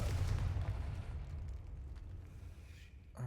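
A Confringo fire spell explodes in the Hogwarts Legacy video game, a loud deep boom at the start that rumbles and slowly fades over a few seconds, with a short sharp burst at the very end.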